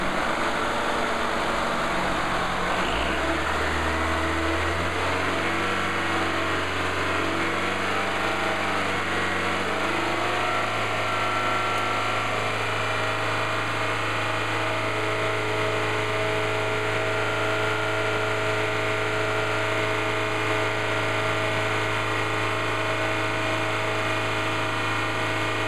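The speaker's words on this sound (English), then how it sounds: "cooling fans come on" A car engine runs steadily while the radiator cooling fans spin up a few seconds in, adding a strong whooshing roar over the low engine drone that holds constant to the end.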